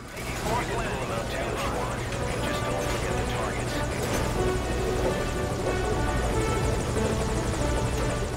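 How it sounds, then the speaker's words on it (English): Helicopter rotor and engine drone in the Metal Gear video game, a steady throbbing hum that runs continuously at moderate loudness with people talking over it throughout. "Get on my freaking plane. It's not a plane, it's a chopper."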